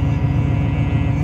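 A diesel truck engine idles with a slight misfire, heard at the exhaust as a brief, steady low rumble close by.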